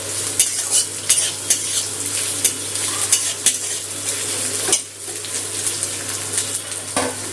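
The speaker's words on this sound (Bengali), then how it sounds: "রসুনটা একটু ভাজা হয়ে গেছে, তারপর পেঁয়াজটা দিয়ে দিলাম" Chopped onion and garlic fry in a pan, a steady bright sizzle with repeated scraping and stirring strokes from a utensil, close up with no talking.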